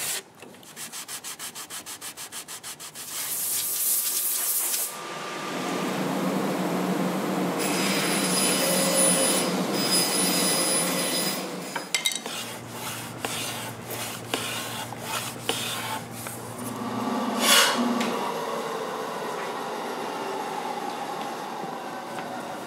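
Steady, rough abrasive sanding on guitar wood, a continuous rasping that shifts in pitch and intensity, with a few sharper scraping strokes near the end.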